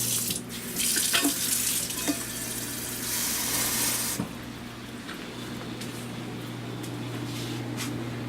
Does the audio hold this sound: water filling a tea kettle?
yes